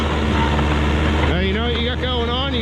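A Detroit Diesel 353 engine on a Timberjack porter in a cold forest revs high, then its pitch sweeps and wavers as the throttle is eased back, with someone talking over it.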